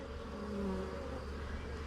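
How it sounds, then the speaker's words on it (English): Honeybees hum in a dense, continuous drone as an open hive is inspected, a close steady buzz with a few brighter passing tones from individual bees. "all these bees that you see here above our open brood, those are going to be our nurse bees"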